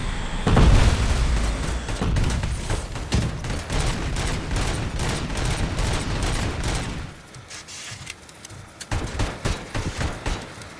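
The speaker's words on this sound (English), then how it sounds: "That's a missile." Missile explosions and gunfire in Robocop: Rogue City, a dense, loud barrage of booms and rapid shots with a heavy opening blast, thinning briefly before more bursts of fire near the end.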